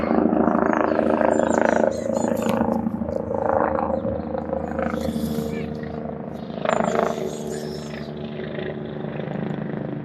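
A helicopter circles overhead, its broad throbbing rumble rising and fading in the distance while a person talks over it.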